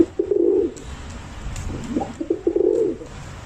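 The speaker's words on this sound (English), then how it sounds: "Homing pigeons have traditionally been kept as racing birds by hobbyists" Homing pigeons kept as racing birds cooing in two low, rolling bursts, near and clear with a softer murmur between, no talk over them.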